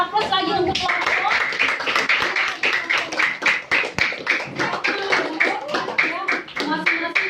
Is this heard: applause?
yes